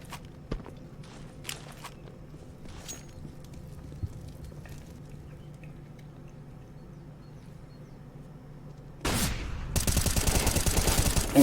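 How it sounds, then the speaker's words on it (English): Counter-Strike match action: scattered footsteps and faint clicks, then a sudden loud burst of continuous rapid gunfire near the end. "So many bullets flying his way."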